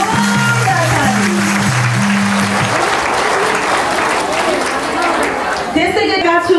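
An audience gives loud, sustained applause for the chief guest, a provincial assembly member, at a devotional bhajan event, while a musical tone sounds early on, and it carries on steadily to the end.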